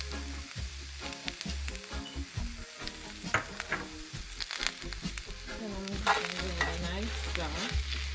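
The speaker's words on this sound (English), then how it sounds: "I'm going to let this saute until it's tender to my liking, maybe 5-10 minutes." Vegetables seasoned with garlic powder and black pepper sauté in a pan for a vegan dinner, making a soft continuous sizzle broken by frequent clattering stirs and scrapes of a utensil.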